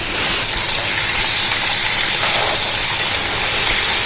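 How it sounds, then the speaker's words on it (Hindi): Prawns fry in hot oil in a kadhai with a loud, continuous sizzling hiss, close and steady for several seconds, with no voices. "ऑयल अच्छे से गरम होने के बाद हम इसमें प्रन को डाल देते हैं"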